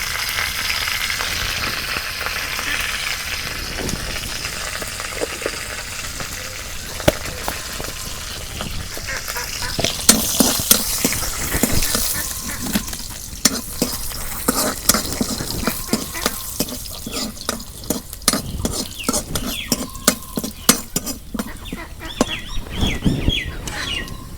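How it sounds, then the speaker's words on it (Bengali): Chopped onion and cumin seeds frying in hot oil for a village-style taki fish and pointed gourd curry, a steady close sizzle with crackling pops that thicken partway through, no voices. "তেল গরম সে এখন দিয়ে দেবো পেঁয়াজ কুচি। কয়টা আমান জিরা দিয়ে দিলাম।"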